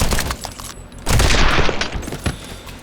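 A submachine gun fires rapid, loud bursts in the video game Madness: Project Nexus, with booming crackling shots and a dense fusillade near the middle.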